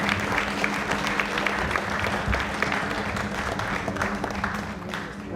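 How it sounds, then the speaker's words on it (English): A crowd at a Guyana Cultural Association awards ceremony applauds in a sustained, fairly loud burst of clapping, thick and continuous throughout with a low room hum beneath it. "Give them another round of applause"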